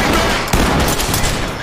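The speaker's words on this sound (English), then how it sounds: "Shots!" Rapid gunfire from a police shooter game, a dense, loud fusillade of overlapping shots with one sharp crack standing out, sustained throughout with no pauses.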